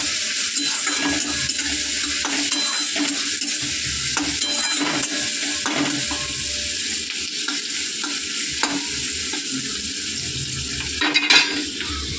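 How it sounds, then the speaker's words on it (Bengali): Whole green chillies and onion fry in a pan of hot oil with a loud, continuous sizzle. A utensil repeatedly scrapes and clinks against the pan as it stirs. "দেখো একসাথেই সব ভাজা করব।"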